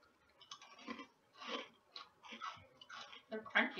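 Crunchy snack chips being chewed up close, a run of crisp irregular crunches and bites over nearly four seconds with no talk.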